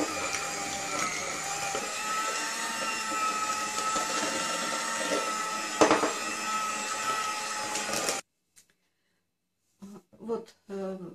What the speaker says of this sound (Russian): Теперь продолжаем взбивать.